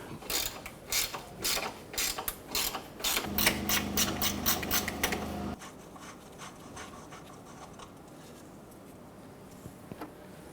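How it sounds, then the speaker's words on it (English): A 15mm gear wrench ratchets on a transmission mount bolt of a 2006-2013 Chevrolet Impala, a close clicking burst in short repeated pulls, then a steadier run of clicks before fading into quiet. "Using a 15mm gear wrench to"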